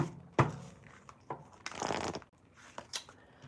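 Tarot cards are shuffled by hand in quick, soft riffling bursts with a few sharp taps in between, close and quiet, with no voices.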